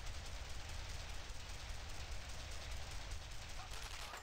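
Dense, continuous gunfire and distant battle noise from the World War II game Brothers In Arms: Road To Hill 30, set in the Normandy invasion, a steady roar of rapid shots with no clear pauses.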